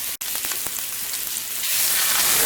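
Chopped onions hitting a tablespoon of unsalted butter in a pan, a close, loud hiss of frying that surges and stays steady after a brief pause.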